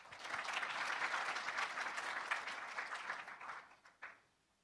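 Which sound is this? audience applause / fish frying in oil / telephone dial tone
audience applause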